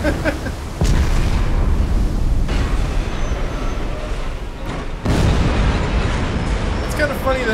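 A torpedo explosion strikes a ship in Silent Hunter 4, a loud sustained roaring blast that swells again partway through, continuous booming rumble throughout.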